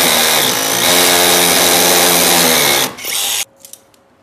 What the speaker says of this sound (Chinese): 所以这个无绳电钻打一个孔，